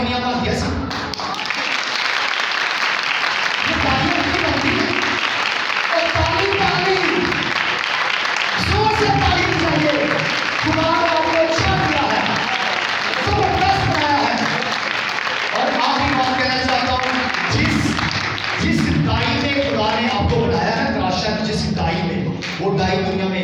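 An audience applauding at a New Year church service, sustained loud clapping and cheering running beneath a man preaching in Hindi over a microphone, his voice rising and falling throughout.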